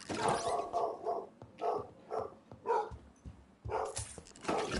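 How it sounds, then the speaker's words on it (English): A dog barks repeatedly in the Vampyr video game, sharp bursts coming in an irregular rhythm with short gaps, fairly close and clear with no talking over them. "I need to go see what my dog's barking about."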